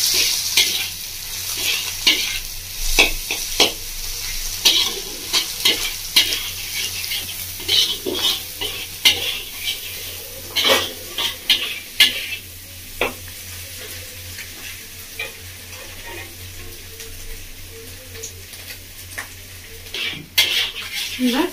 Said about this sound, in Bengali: এবার সবজিগুলো খুব ভালোভাবে ভাজা হয়ে গেছে।